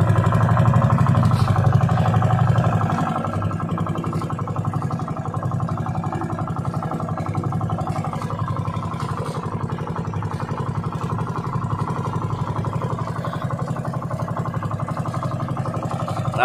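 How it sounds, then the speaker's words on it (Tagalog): A boat engine runs with only one of its two engines going, a steady close mechanical drone with a fine rapid clatter, louder for the first few seconds and then settling into an even hum throughout. "isang makina pala yung naka-andar"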